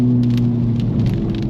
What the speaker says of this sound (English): See, it's coming down pretty good. And the trees make these huge raindrops as well.